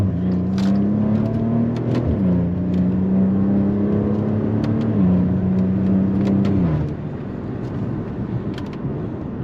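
A Maserati Ghibli SQ4 in manual sport mode, its engine droning steadily from inside the cabin as revs climb, with audible drops in pitch at each of several unhurried gear shifts before the sound eases off.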